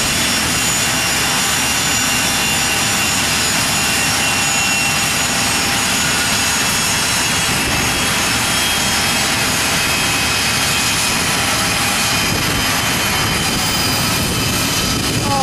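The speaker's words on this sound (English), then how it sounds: "Here we go, it's just started up its engine." A jet engine roars loudly and steadily after start-up, a constant high whine over broadband rushing noise, close by and unbroken, at Aurora Municipal Airport.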